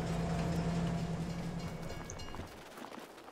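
A train in Farming Simulator 22 rumbles along steadily at a fair distance, with a droning tone that fades slightly toward the end, no talk over it.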